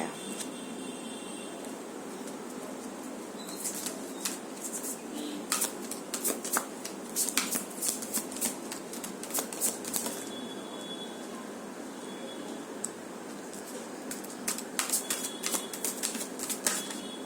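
Tarot cards are shuffled close by, a soft riffling and flicking that comes in irregular bursts over a quiet room hiss, with no talking.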